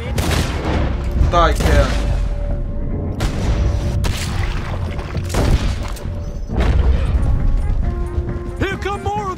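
Gunfire in Red Dead Redemption 2 rings out as repeated loud cracks and booming shots in irregular bursts, close and sharp, under frequent shouted speech from voices in the scene.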